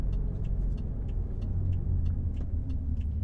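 BMW F10 5 Series fitted with an Eisenmann axle-back exhaust, running in sport mode, giving a low, steady exhaust rumble close by with no voices.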